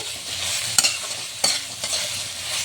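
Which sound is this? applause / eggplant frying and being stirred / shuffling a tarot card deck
eggplant frying and being stirred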